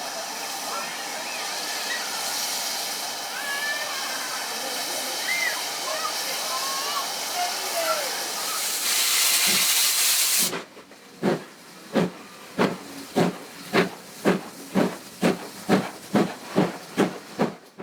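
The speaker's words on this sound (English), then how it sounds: "the Great Western tank engine was running round its train and coupling up" Loud, steady steam hissing from a Great Western tank engine fills the first half, then cuts out, giving way to a regular series of sharp chuffs from the nearby engine.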